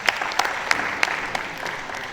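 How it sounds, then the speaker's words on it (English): A short burst of scattered hand clapping from a small audience, sharp individual claps standing out over a steady patter. "Please round of applause for her."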